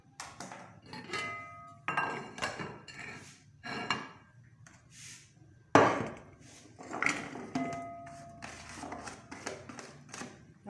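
Cut potatoes for a potato omelette are tipped into a pan, making irregular knocks, clatters and rattles that come close in scattered bursts with quiet gaps between.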